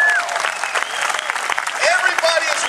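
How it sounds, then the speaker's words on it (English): Crowd applause at a Tea Party rally, a steady wash of clapping lasting about three seconds, with voices and a few whistles or shouts rising over it. "Give yourselves a round of applause."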